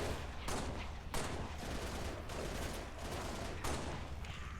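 Sustained gunfire in Halo: The Master Chief Collection during a fight against the Covenant, with dense rapid bursts of shots and sharper volleys cutting in every second or so, loud and continuous with no talking.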